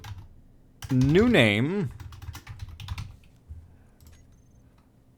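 Rapid clicking keystrokes on a computer keyboard run through the passage, close and crisp, with a brief warbling voice over the early clicks.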